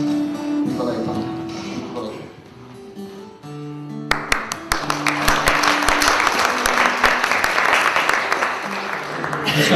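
Audience applause at an event as a branch president is invited to the microphone, a dense burst of clapping breaking out after a few seconds of quieter room sound and continuing loud and steady to the end.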